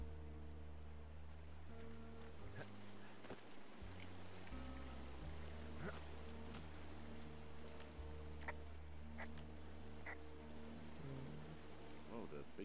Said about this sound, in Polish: Jest rzeka Ruby, to pewnie tym mostkiem muszę przejść.